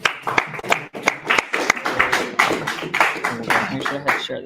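Scattered, uneven clapping from a small group in a course presentation session, individual claps distinct and irregular rather than a full ovation, with some faint voices mixed in.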